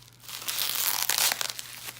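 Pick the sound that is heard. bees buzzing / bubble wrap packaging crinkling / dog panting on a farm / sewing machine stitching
bubble wrap packaging crinkling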